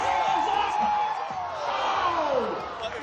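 A large indoor crowd roars and cheers at a New Zealand National Basketball League game between the Nelson Giants and Franklin Bulls, a dense continuous wall of voices with scattered whoops and shouts.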